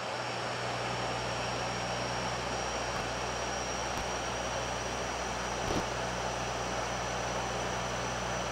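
Steady, loud turboprop engine drone with a constant whine fills the cockpit of a Dash-8 airliner on approach to Castlegar Airport, unbroken throughout, with no talking.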